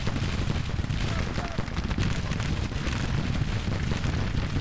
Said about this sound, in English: We've got some machine guns up here.